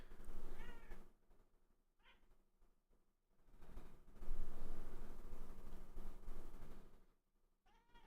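A cat meows several times, with separate cries near the start, middle and end. Broadband noise and background sound fill the gaps between the cries.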